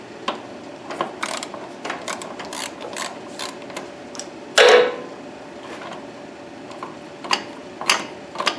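A ratchet on a 10mm long extension turns a terminal bolt on the power feed motor of an LT40 Wood-Mizer sawmill, giving quick bursts of close metallic clicks with short pauses and one louder clank partway through.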